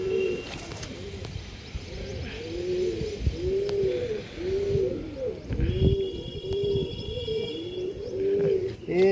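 Rocket-bloodline Punjabi pigeons coo close by in a repeated, rhythmic series of soft throaty calls, with faint chirps and background noise.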